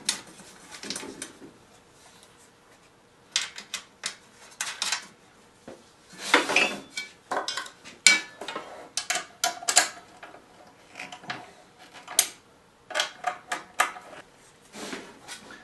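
Metal top plates of a projector cage are handled and bolted together, giving scattered clinks, taps and rattles of metal parts and hardware close by, some pauses between them and no voices.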